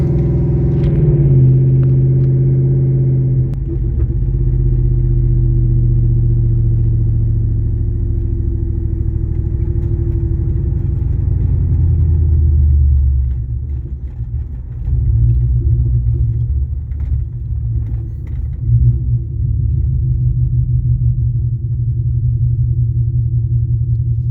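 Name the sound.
car engine revving, fighting for traction on a cold track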